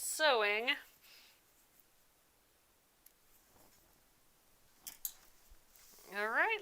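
Scissors give a few faint, crisp snips on thread after sewing a quilt block with Aurifil thread, scattered over near silence, with a voice talking at the start and again at the end.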